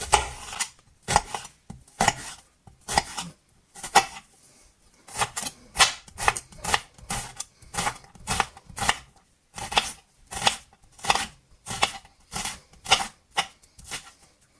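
A knife chops an onion on a board while a seafood paella is prepared: sharp, crisp strokes come close and clear in quick bursts separated by short pauses, with no voices.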